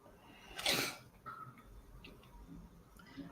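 A single sharp human sneeze bursts out near the start, followed by quiet room noise and faint small ticks.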